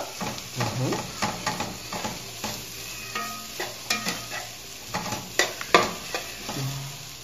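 Previously fried chicken being stirred and mixed in a sizzling pan: continuous frying hiss under frequent clattering scrapes of a spoon against the pan, close up, with faint talking in the background.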